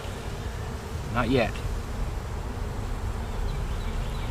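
Dense, steady buzzing of many honey bees around a double-queen hive during an inspection fills the clip, with a short spoken remark briefly rising above the drone.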